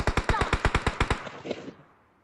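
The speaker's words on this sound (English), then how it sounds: "Help! I'm getting shot." Rapid automatic gunfire in the mobile battle-royale game PUBG Mobile, a burst of about a dozen loud, evenly spaced shots followed by a short fading echo tail.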